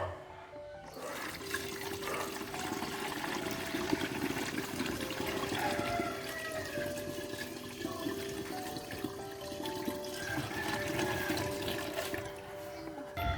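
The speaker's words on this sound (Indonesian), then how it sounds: "Selanjutnya juga saya akan tambahkan 2 liter air ya." Two liters of water pouring steadily into a container for a homemade fruit-peel liquid fertilizer, a continuous close gush with splashing and trickling throughout, no talking.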